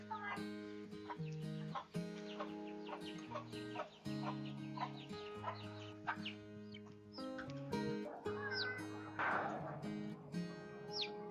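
Homestead chickens cluck and murmur nearby in a busy, overlapping chorus of short calls, with a few sharper squawks near the end, fairly faint overall and with no talking.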